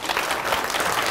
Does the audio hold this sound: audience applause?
yes